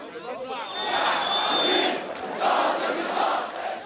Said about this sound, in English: Some onlookers joined in the chants